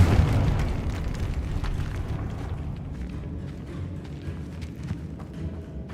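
A Confringo fire spell explodes in Hogwarts Legacy, a loud rumbling boom at the start that fades into a long low crackling decay.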